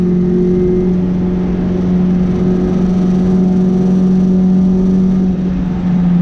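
A Mini race car with a 1380 Swift Tune A-Series engine producing 128 bhp, heard from inside at a track day at Castle Combe, gives a loud, steady engine whir and drone throughout with no talking.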